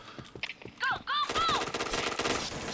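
Rapid gunfire bursts in a video game, sharp repeated shots with ringing electronic tones, close and loud, with a voice speaking briefly among them.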